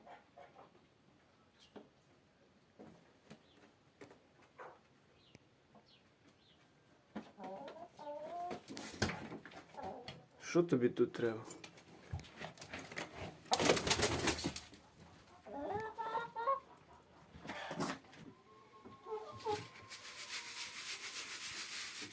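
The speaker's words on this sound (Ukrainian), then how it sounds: "Нагла курка прийшла ще раз." A chicken clucks and squawks intermittently in a noisy outdoor setting where feed is being sifted, with brief rustling and a short spoken line from a nearby voice.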